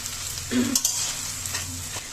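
Noodles for homemade chow mein, cooked with fried potatoes, are gently stirred in a frying pan. A soft oily sizzle runs throughout, with a few scraping stir strokes and light utensil clinks, and no voices.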